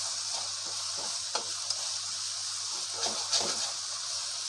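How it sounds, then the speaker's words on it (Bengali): Egg frying in a pan and being stirred for a chicken Mughlai paratha filling: a continuous close sizzle with soft scraping movements of the stirring, no voices present. "এবার আমি ডিমটা একটু নেড়ে নেব।"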